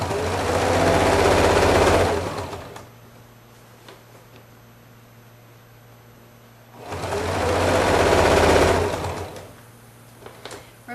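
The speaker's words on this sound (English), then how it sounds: "Now I'll finish this seam and then we'll get finished with this casing." A sewing machine runs in two bursts of steady stitching on a quilt's binding seam, each about two seconds long, separated by quiet pauses with faint handling clicks.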